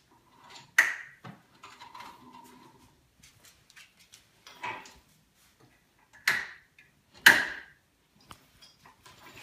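A Polaris 2500 lb HD winch on a Sportsman 570 ATV being free spooled gives scattered sharp metallic clicks and clacks, several louder knocks among faint ticking, fairly close and quiet between hits.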